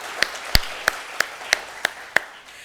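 Sparse applause at a community gathering greets the Poet Laureate of Los Angeles, heard as about seven crisp, evenly spaced handclaps, fairly close and distinct, over a quiet room background.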